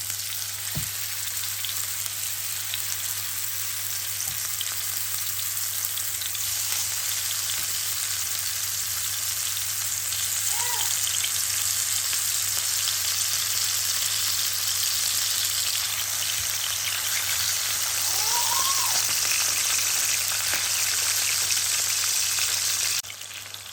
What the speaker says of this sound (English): Okay, so our fish is frying.